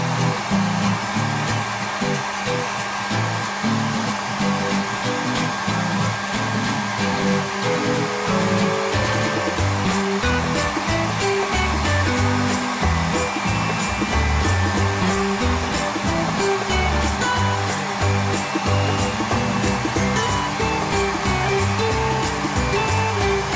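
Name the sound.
hair dryer drying a dog after shampoo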